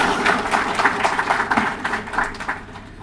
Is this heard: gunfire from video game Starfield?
no